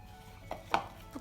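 A spoon stirs thick, healthy pancake batter in a bowl, giving three soft, close knocks and scrapes spaced unevenly over a quiet background.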